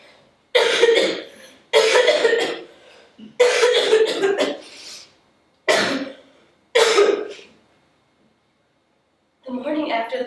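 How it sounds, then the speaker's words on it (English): Someone has a coughing fit during a stage play reading, giving several harsh, throaty bursts of coughing separated by short silences, followed by a faint voice. "The stuff I coughed up."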